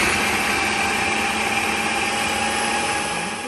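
A blender purees a falafel mixture, a loud, continuous high-pitched motor whir that holds steady for the whole stretch with no pauses and no talking.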